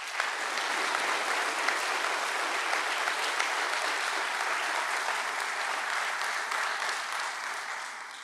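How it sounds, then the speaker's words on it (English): Applause for police academy graduates at a graduation ceremony, a steady wash of many hands clapping from a large audience, sustained throughout and fading slightly at the end. "Let's give them a big round of applause."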